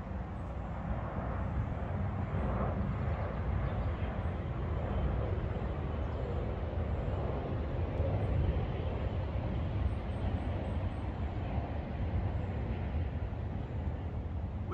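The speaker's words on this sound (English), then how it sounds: "But when the airplanes are going over," An airplane passes over a wooded camp a couple of miles from an airport, its broad, steady engine roar filling the whole stretch at an even, moderately loud level.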